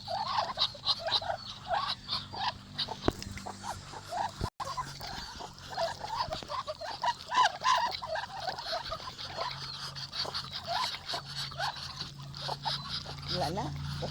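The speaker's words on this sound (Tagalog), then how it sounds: "Ito yung mga male duck." Male ducks on a Philippine duck farm calling in a busy, continuous chorus of raspy quacks and chatter at moderate distance, with a voice talking now and then over the flock.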